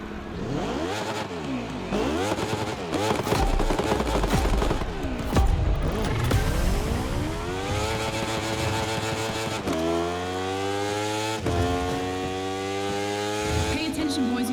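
Racing motorcycle engines in The Crew Motorfest, loud and close, revving hard and rising through gears in repeated sweeps, with rattling pops and a steady high-pitched whine, a voice speaking intermittently over them.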